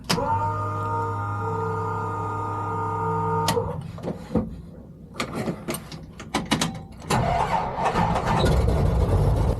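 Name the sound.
Lycoming 580 aircraft engine starting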